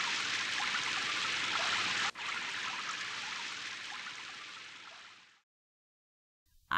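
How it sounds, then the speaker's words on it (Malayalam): Steady rain pours down in an animated film scene as a dense, even hiss that slowly thins and fades to silence. No voices are heard over it. "മഴ ചോരുന്ന ലക്ഷണമില്ലല്ലോ"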